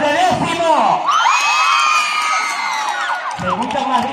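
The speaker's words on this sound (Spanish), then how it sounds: "Y unidos ahí, gritos y aplausos de décimo." Tenth-grade students shout, whoop and cheer as a loud crowd at a school event, a dense, steady roar of young voices with rising yells and some clapping mixed in, lasting throughout.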